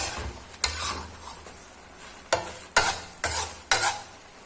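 Chili paste being stir-fried for Thai nam prik phao, a spatula scraping and stirring through the sizzling paste in a pan in several rough strokes over a steady frying hiss, with no talking.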